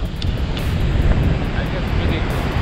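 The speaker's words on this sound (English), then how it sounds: "Amazing, the waves are very strong." Strong ocean waves surge at a beach in Da Nang, Vietnam, a dense, steady roar of surf with wind buffeting the microphone throughout.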